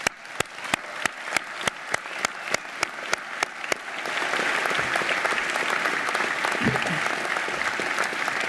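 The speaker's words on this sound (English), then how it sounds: "warm up your applause by thanking them before they come on stage" Graduation ceremony audience at a university science, engineering and environment school, first a dozen evenly spaced claps, then swelling into sustained, dense applause from a large crowd, close and loud.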